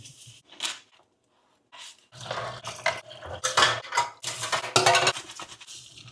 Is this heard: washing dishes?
yes